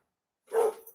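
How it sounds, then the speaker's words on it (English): A single short dog bark, close and moderately loud, after a half-second of silence. "Quit barking at kids."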